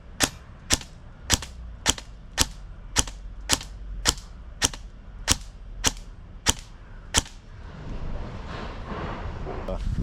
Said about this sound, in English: Demonstrate the full auto now.